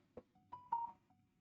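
A mobile phone chirps out a few short, quiet notification beeps in quick succession, thin electronic tones over near silence.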